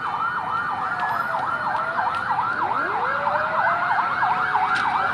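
A fire truck's wailing siren cycles rapidly and continuously at a large fire in Quezon City, loud and fairly close, with faint crowd and street noise underneath.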